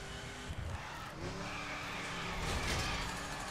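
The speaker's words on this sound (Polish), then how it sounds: "Powiem wam, że Charger normalnie tak jeździ, on cały czas bokiem" In the video game The Crew Wild Run, a Dodge Charger muscle car slides sideways through a city. The engine drones and rises under long tire squeals that swell and fade over a few seconds.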